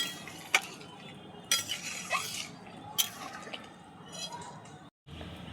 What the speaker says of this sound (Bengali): দিয়ে আর একবারও ঘেঁটে দেব।